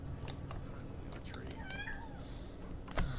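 A cat meows in The Sims 2 Freetime, several short, bright, rising mews spread across the moment, heard over a quiet game backdrop with a brief sharp sound near the end.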